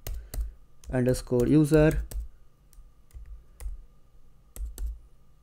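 Typing Python code on a computer keyboard, heard as close, light key clicks in short bursts around someone speaking briefly.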